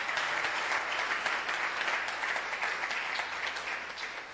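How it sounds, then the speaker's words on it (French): A church congregation at a Sunday service applauds and cheers, dense sustained clapping mixed with voices that fills the hall evenly and eases off slightly toward the end. "Est-ce qu'on peut acclamer le Seigneur?"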